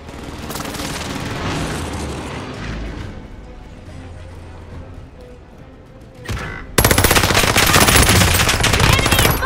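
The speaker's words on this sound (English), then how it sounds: "The enemy is firing at me!" A distant Call of Duty Modern Warfare 2019 firefight crackles and thumps, then gives way to a sudden, loud, sustained burst of close automatic gunfire.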